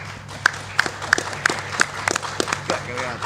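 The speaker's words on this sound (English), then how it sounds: "let's give applause to all speakers on site and online." A conference audience at a joint T20 session gives scattered applause for the speakers, a few sharp distinct claps standing out over a thin murmur of the room.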